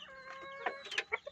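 Backyard chickens in La Union cluck in a few short, faint bursts as they are fed nearby.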